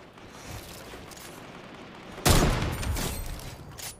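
Gunfire from Fortnite: quiet background, then a sudden loud shot burst followed by a sustained rumbling roar and scattered further shots.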